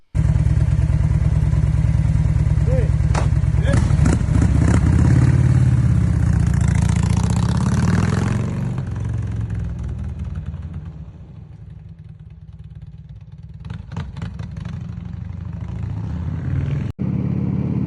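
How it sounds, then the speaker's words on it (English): A 1996 Harley-Davidson Electra Classic motorcycle engine runs steadily at idle with a deep, loud rumble, and a few sharp clatters punctuate it before the level eases and the engine keeps throbbing more quietly. "here's my new bike. It's like I said, it's a Harley Davidson Electra Classic, and it's a '96."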